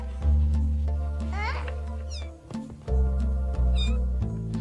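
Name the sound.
six-week-old kittens meowing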